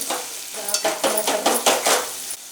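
Spoon stirring chicken gravy with cashews in a pan, a series of rhythmic scraping strokes over a soft sizzle, close and fairly loud with no voices.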